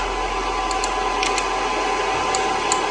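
A steady computer fan whir hums continuously at an even level, with faint high clicks or ticks scattered over it and no voices.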